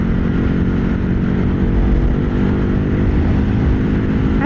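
A motorcycle is ridden at speed, its engine a loud, steady, close-up drone with wind rush that holds without a break.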